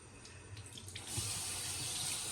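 A bathroom tap in a desert home is turned on and runs hot water into a sink, starting with faint clatter before a steady, close hiss of flowing water.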